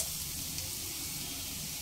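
Chopped onions frying in a pan for a teasel gourd (kakrol) dish, a soft, steady sizzle that holds evenly throughout with no talking.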